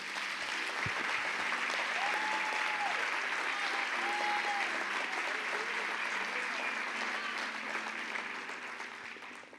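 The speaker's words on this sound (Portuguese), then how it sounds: "Vamos aplaudir o Espírito Santo" A church congregation gives sustained applause in worship, steady, moderately distant clapping that runs for nearly ten seconds beneath faint sustained tones and fades at the close.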